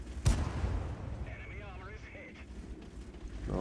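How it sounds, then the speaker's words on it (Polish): A single heavy artillery blast from World of Tanks gameplay near a Cromwell tank booms sharply at the start, then rumbles off under game sounds and a commentator's voice. "Bardzo blisko była artyleria"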